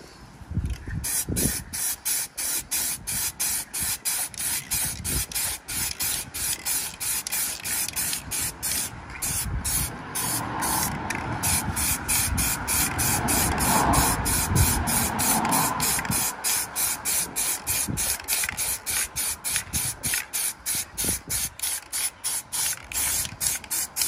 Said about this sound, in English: Okay, so let's get the second silver coat on.